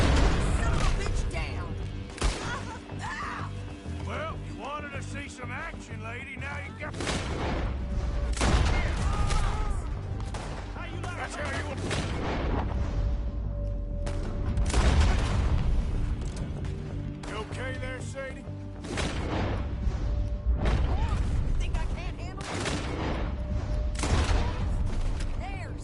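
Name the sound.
gunfire in video game Red Dead Redemption 2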